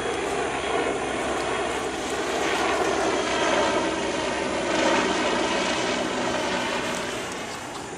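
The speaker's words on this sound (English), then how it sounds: "I hear helicopters, but I have to save some beetles." Steady, broad engine roar of helicopters passing overhead, swelling slightly and fading, with no talk.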